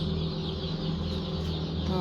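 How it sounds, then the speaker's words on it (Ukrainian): Young chicks cheeping as they are gathered up, a dense continuous chorus of high peeps over a steady low hum, close and loud throughout. "Зараз треба вибирати курчат."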